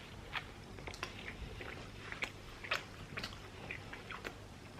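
Someone bites into and chews chocolate Nutella babka bread with coffee in it, soft wet chewing and small sticky smacks close to the mic at a steady pace, faint and alone.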